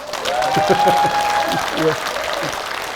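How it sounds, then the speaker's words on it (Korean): A crowd applauds at a lawmaker's town hall report in Yeongju, a steady wash of clapping from the audience with a voice speaking over it throughout. "여기는 박수 한번 쳐야 됩니다."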